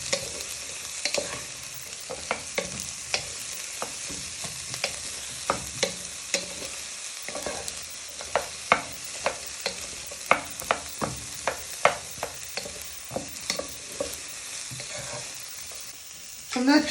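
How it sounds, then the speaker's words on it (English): Onions and garlic sizzle steadily as they are stir-fried for spicy rice, with repeated sharp clatters and scrapes of the pan being tossed over the continuous frying hiss. "onions and garlic. So you're just giving them a good toss in for a minute or two."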